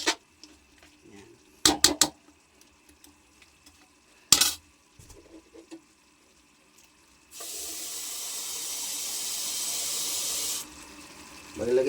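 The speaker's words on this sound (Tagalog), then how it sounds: "Maglagay po tayo ng 1 litrong tubig para sa sabaw." About one litre of water streams steadily into a cooking pot for chicken sinampalukan soup, a continuous pour lasting several seconds, after scattered clinks and clatters of utensils, with a sharp knock at the end.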